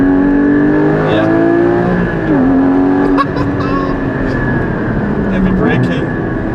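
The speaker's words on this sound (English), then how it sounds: "Heavy braking, downshift into the corner." Porsche 981 Cayman GT4 engine under heavy braking into a corner, revs dropping and blipping through downshifts into first, loud in-car engine tone under a driver talking.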